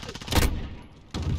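A loud gunshot bursts out in Call of Duty Modern Warfare, followed by a fading tail and a second sharp shot near the end, consistent with sniper rifle fire.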